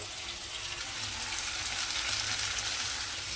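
Yogurt, chili and turmeric masala sizzling in a kadai for a snakehead fish kalia, a steady close frying hiss that swells slightly midway, with soft stirring and no voices.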